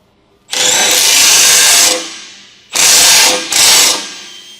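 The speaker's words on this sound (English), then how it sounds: "Use an 18mm wrench, a large 18mm long socket, and an electric wrench to tighten the rear shock absorber mounting bolts." An electric wrench tightens the rear shock absorber mounting bolts on a 2013 Jeep Wrangler JK with an 18mm long socket, loud and close, one long whirring burst followed by two shorter ones.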